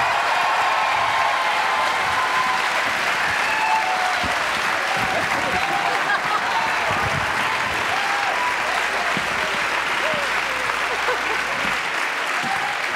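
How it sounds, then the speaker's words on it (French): A studio audience at a French television show applauds loudly and continuously, a dense close wash of clapping that holds steady throughout. "rejoindre immédiatement avec Chantal Gallia sous les applaudissements du public"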